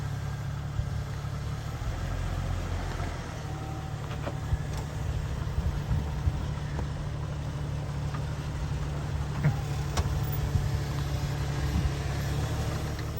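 A Jeep working its way along a rocky off-road trail at Sand Hollow, a low steady engine rumble at crawling pace with occasional faint knocks and scrapes over rock.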